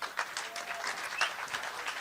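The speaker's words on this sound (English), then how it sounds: "Let's give the digital pass holders a big applause today" Soft applause from an event audience, fairly distant, with scattered claps over about two seconds and a faint voice.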